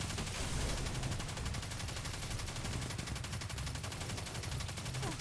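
Rapid automatic gunfire from a Destiny 2 firefight against Skolas in a Shadowkeep Nightmare Hunt, a dense, continuous rattle of shots with explosions layered throughout, loud and sustained.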